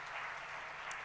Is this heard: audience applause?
yes